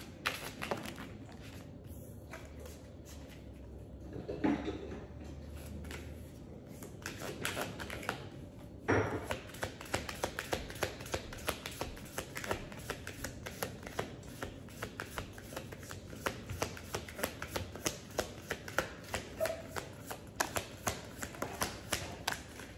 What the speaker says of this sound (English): Now let me pull three more cards